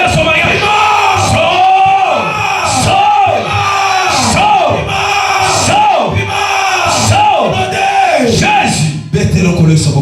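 A church congregation cheers loudly for Jesus during a prophetic deliverance service, the crowd erupting in sustained rhythmic shouts and yells with repeated swelling waves of voices.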